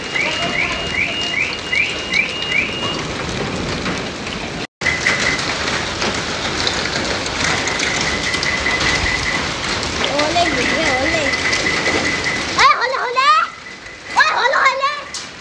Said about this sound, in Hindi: देखा आपने कितने तेज तेज, काफी तेज गोले थे, ओले बहुत ज्यादा।